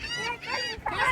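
Seagulls calling close by, a run of loud, harsh, honking squawks that overlap one another in quick succession.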